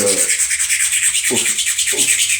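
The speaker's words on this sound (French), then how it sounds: "il nous faut donc une lime en diamant pour pouvoir poncer ça" Rapid back-and-forth scraping of a diamond file sanding a metal plate, a continuous gritty hiss pulsing in quick strokes, close up.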